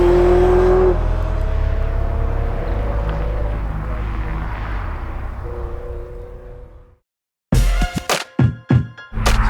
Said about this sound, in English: The car I'm driving is a 1996 Ferrari 355.